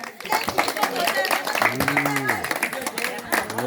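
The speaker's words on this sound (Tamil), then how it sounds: "பெரிய கைத்தட்டல் கொடுங்க" Scattered clapping from a crowd, fairly close, running under a loud voice speaking over it.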